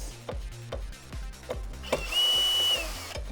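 A power drill backs wood screws out of an aluminum bar: a rapid series of short, close motor bursts and rattles, then a longer sustained whine as one screw spins free, with no talk.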